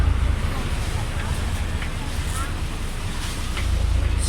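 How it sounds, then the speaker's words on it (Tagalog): A ferry boat pulls away on open water, with a constant rushing wash of waves and wind buffeting the microphone throughout, loud and close, with no clear talk. "hinglarga na gyud ang ferry boat dia"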